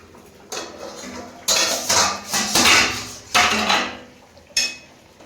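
Pumpkin and fish curry stirred in a pan, producing loud bursts of scraping and metallic clatter from a utensil against the pan, in several separate strokes with short pauses between.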